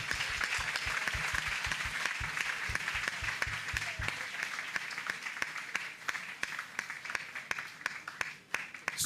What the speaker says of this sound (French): Acclamez très fort. Clap, clap,